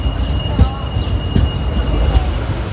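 Passenger train pulled by an Arakkonam P4 locomotive departing Manjeshwaram station, a continuous rumbling rattle with rhythmic wheel clicks and faint squeals, heard close from inside a coach.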